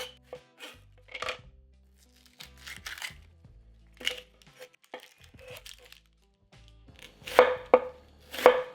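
A knife chops an onion on a cutting board, sounding as scattered crisp thuds and crunchy cuts with pauses between, ending in a few louder strokes, close and alone.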